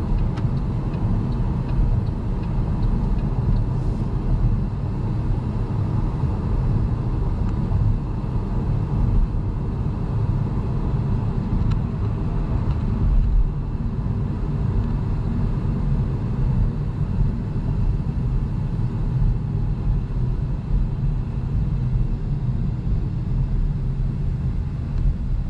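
Inside a 2022 Chevrolet Bolt EUV while driving, a steady low road and tire rumble fills the cabin with no voices and no break in the drone.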